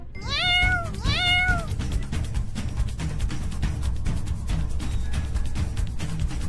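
A cartoon cat lets out two quick rising-and-falling meows near the start, clear and up close over steady background music that continues alone afterward.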